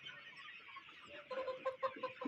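A desi hen clucks softly in short, repeated bursts, growing a little louder toward the end, with quiet background noise.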